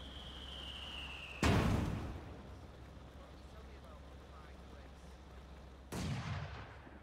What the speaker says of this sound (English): Rocket bombardment launching. Glad it's flying away from me.